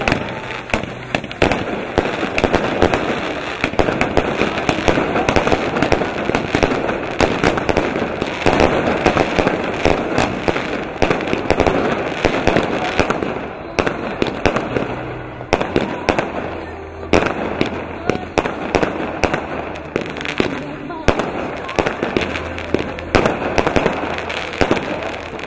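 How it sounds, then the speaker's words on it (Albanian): New Year fireworks burst across the sky over a lit tree in Lezhë, Albania, a dense, continuous crackle of pops and bangs lasting throughout, loud and near with a festive crowd murmuring underneath. "Pran pemës së ndezur, fishek zjarët pushtuan qielli."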